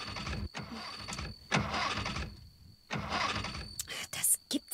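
A car engine repeatedly cranking and failing to catch, staged as a radio-drama effect, with three distinct starter bursts separated by pauses, followed by short clicks and rattles, with no talking.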